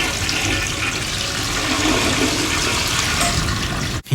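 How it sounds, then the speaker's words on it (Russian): A toilet flushes in a film scene, a loud, close, continuous rushing of water lasting about four seconds before cutting off abruptly. "Ну и еще сзади раздается звук смыва."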